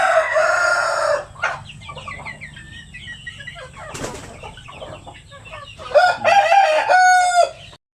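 Native Shamo Asil chickens in a coop, with loud clucking and a rooster crowing near the start and again toward the end, plus a burst of flapping wings in the middle and steady background bird calls.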